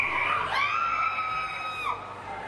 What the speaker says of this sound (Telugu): పైన చూస్తే విద్యార్థులు అరుస్తున్నారు.